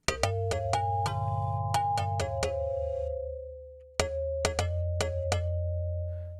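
Synthesized bell tones from a physical modeling synth strike in a quick, irregular pattern, each bright ding ringing on with a long sustained tail, then a second cluster of hits starts after a brief pause.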